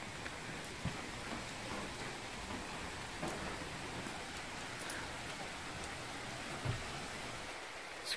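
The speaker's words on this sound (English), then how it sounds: "The rain is settling in" Rain falls outside an abandoned tuberculosis hospital in Lima as a faint, steady hiss that stays even and unbroken throughout.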